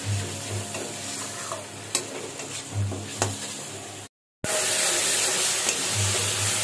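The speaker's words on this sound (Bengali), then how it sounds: "সামান্য একটু জল দিয়ে মশলাটাকে ভালো মতো কষিয়ে নিচ্ছি।" Coriander, cumin and turmeric masala stir-fried with a splash of water in a pan, crackling in a steady sizzle with periodic scraping stirs and a brief dropout in the middle, no voices.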